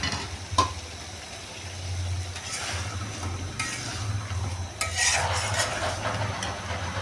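Potatoes are stir-fried for a potato and fish curry, with a spatula scraping and stirring in a pan over a soft, steady sizzle, loudest toward the end.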